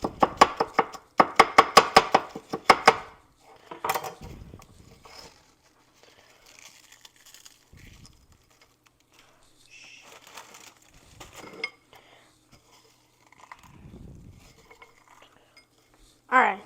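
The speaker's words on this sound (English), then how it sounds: "just keep crushing it up until you got little chunks of graham cracker" Graham crackers being crushed by hand for s'mores cookies: a fast burst of crunchy cracking early on, then sparser crumbly rustles, taps and clinks of a bowl, close and fairly quiet.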